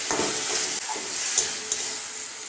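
Fried okra tipped into a sizzling yogurt masala in a pan and stirred, with a bright continuous sizzle broken by a few soft scraping strokes, close and without talking.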